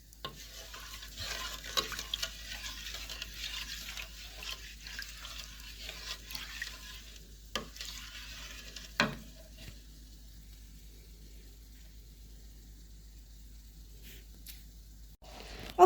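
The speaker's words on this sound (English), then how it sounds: "You have to keep stirring it." Salmon brine being stirred by hand in a container, a steady run of soft swishing and faint clinks over the first half, then quieter with a few sharp knocks near the end; no talking.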